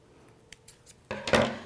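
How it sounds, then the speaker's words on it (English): Scissors snip through a flexible spoke of an upcycled saucer basket, giving a few faint ticks followed by a louder, crisp metallic cut near the end. "Scissors will split that spoke very easily because it's very flexible."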